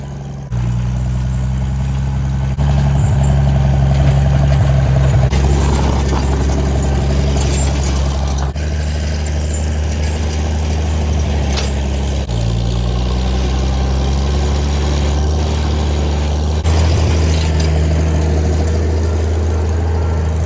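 A tractor on an off-grid homestead cabin in Canada idles nearby with a deep, steady engine rumble, its low throb rising and settling slightly a few times, with no talking.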